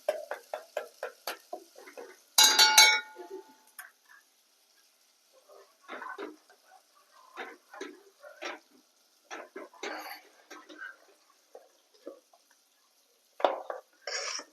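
A spoon stirs dal in a pot over a low gas flame, making a run of quick metallic clinks and scrapes, then scattered taps separated by quiet gaps.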